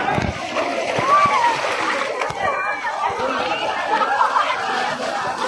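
People splash and play in water at a waterfall spot, with scattered splashes under lively chatter and nearby voices throughout.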